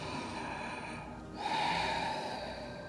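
Deep yoga breathing sounds close by: a long, airy exhale fades into a short pause, then a strong inhale rushes in and holds, all without talk.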